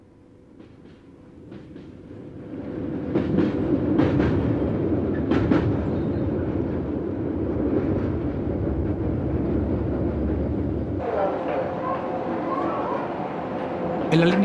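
A Swiss Rhaetian Railway metre-gauge train rolling along, a steady rumbling drone with some rail clatter that swells as it passes and holds fairly loud, with a voice speaking over it.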